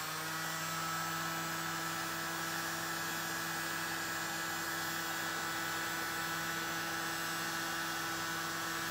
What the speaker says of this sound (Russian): Включаем фен.